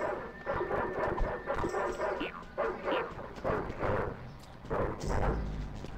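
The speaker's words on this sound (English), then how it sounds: "Why are there so many dogs around?" In a video game, several dogs bark and yip in quick, irregular bursts, moderately loud and close, mixed with other game noise and no clear speech.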